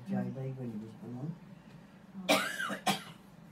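A person gives two short, sharp coughs close by right after speaking, heard alone with no talk over them.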